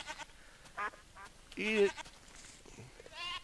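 A little goat in Minecraft gives a few short nasal bleats between bursts of someone speaking nearby, quiet and intermittent.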